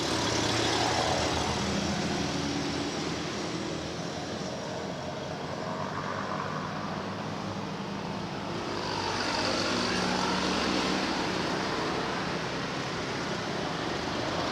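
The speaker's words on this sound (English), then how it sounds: "actually pretty light traffic at the moment." Light street traffic moves through downtown Chiang Mai near Tha Phae Gate, a steady wash of passing engines and road rumble that swells and fades, with faint voices in the mix.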